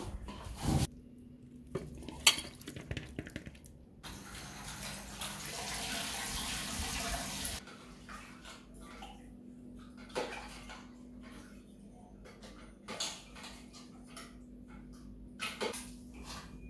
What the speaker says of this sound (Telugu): ఇప్పుడు చేపలను అయితే కడుగుతున్నాను.